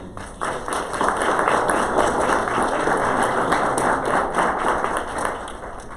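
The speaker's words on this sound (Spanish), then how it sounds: "Un fuerte aplauso para él, por favor." Audience applause at a university book presentation on political disaffection in Nuevo León: dense, steady clapping from a seated crowd fills the whole stretch at an even, fairly loud level.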